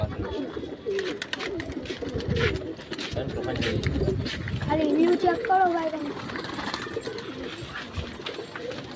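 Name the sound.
pigeons cooing on a rooftop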